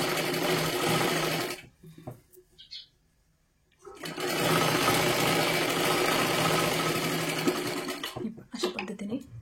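Sewing machine stitching a full seam on a size 32 princess blouse, running in two long bursts separated by a pause, close and steady, with a brief restart at the end.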